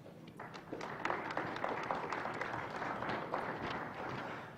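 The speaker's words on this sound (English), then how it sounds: "So please join me in giving them a round of applause." Applause from a panel audience at an economic development forum, a steady, moderately loud patter of many hands with scattered sharper claps, continuing evenly throughout.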